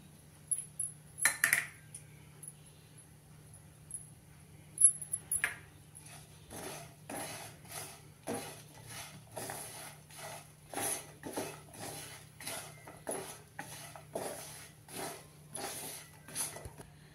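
A spoon taps and clinks against metal dishes in a steady series of light, close strikes while chili powder is added to spices in a quiet kitchen, with a few sharper knocks near the start.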